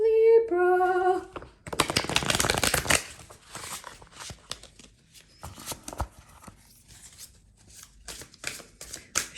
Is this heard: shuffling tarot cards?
yes